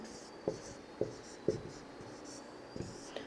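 A teacher writing letters during a Hindi-English reading lesson makes short, crisp scratching strokes, about five separate bursts spaced roughly half a second apart, close and fairly soft with no speech.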